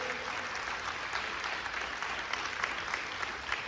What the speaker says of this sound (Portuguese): Então aplauda ele bem forte.